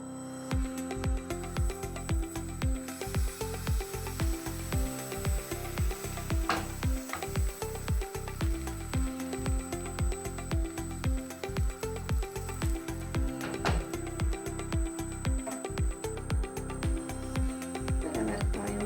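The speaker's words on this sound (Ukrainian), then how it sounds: "Сковорідка нагрілася, зараз будемо наливати тісто." Steady frying sizzle of thin crepe batter in a hot pan fills the clip, punctuated by a regular series of soft clicks and taps, like a utensil working in the pan, with no talking.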